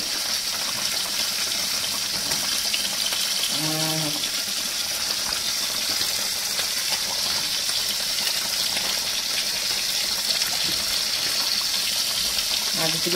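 Catla fish curry boils in a pan, a constant bubbling hiss of simmering liquid that holds steady throughout, with a brief faint tonal sound partway through.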